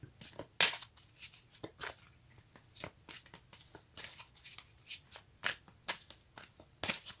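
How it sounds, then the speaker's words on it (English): A deck of tarot cards is shuffled by hand, not smoothly. It gives repeated rough riffling and slapping bursts in an uneven rhythm, close and fairly loud. "This is not shuffling smoothly for me."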